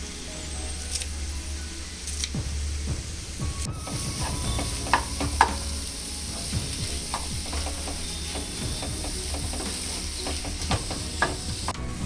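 A spoon stirs paneer bhurji in a pan as coriander leaves are folded in, with scattered scraping clicks and taps over a low, steady sizzle.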